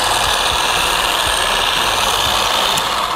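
Cyclo Model 5-Pro dual-head polisher running on car paint to remove swirls, a loud, constant mechanical drone and buzz with a rattling vibration, heard alone.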